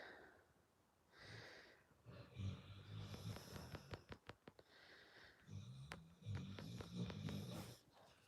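Someone snoring nearby, with a slow cycle of rumbling, snorting breaths and short pauses between them, fairly faint against a quiet room.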